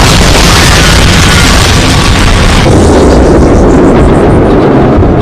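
A Boeing 737 airliner crashing with its fuselage breaking apart, heard as a loud sustained roar and rumble that shifts to a deeper, churning crash noise partway through, with no voices.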